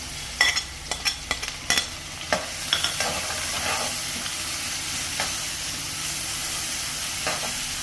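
Crushed shallots, garlic, dried chillies and curry leaves fry in coconut oil, giving a steady close sizzle with sharp spoon-stirring clatters early on, then settling into an even hiss.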